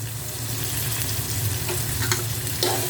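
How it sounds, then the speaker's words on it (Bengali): Prawns being sautéed with spices in a pan over medium heat, a steady close sizzle with occasional stirring scrapes, no talk. "চিংড়ি মাছগুলো দিয়ে চিংড়ি মাছগুলো ভালো করে কষিয়ে নেব।"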